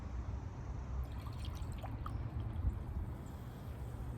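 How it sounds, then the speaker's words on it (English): Cream soda pours into a glass already holding Everclear, a soft, quiet trickle with faint drips and splashes over low background hum. "let's go and pour the rest of my cream soda in"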